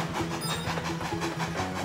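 Kirby, transformed into a yarn train in Kirby's Epic Yarn, chugs along with a steady, rhythmic clickety-clack and soft musical tones, moderately loud and unbroken.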